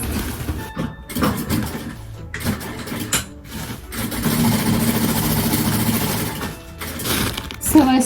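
A sewing machine stitches a postal envelope shut, its mechanical whirring running in uneven bursts with short pauses, fairly close and steady through most of the stretch.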